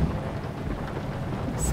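Steady heavy rain and low rumbling thunder fill the scene in American Truck Simulator while driving a big truck, a dense continuous wash with no talk over it.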